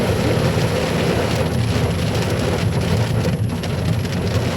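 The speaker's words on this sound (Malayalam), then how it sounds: "പോകുന്ന വഴിയിൽ നല്ല മഴയായിരുന്നു കേട്ടോ" Heavy rain pours down in a dense, constant hiss with a low rumbling undertone, steady throughout with no talking.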